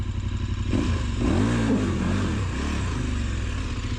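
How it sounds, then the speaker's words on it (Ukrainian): A motorcycle engine revs up as the throttle is twisted for a turn in place, a rising then falling mid-pitched roar over a steady idle, loud and close. "ми беремо наше щеплення, вивертаємо кермо, нахиляємо мотик крутимо газ"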